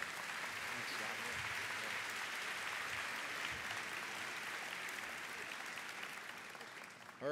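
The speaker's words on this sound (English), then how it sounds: "you should all get a round of applause for that" A large conference audience in Buffalo applauds itself, a sustained, even wash of clapping heard from a distance and running on without a break, slightly thinning toward the end.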